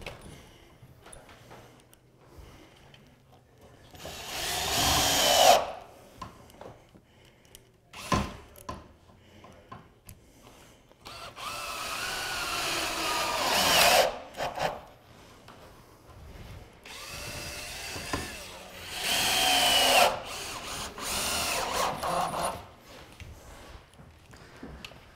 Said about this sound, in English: we just want to get two more screws right in the end of these 2x4s just to hold it all together nicely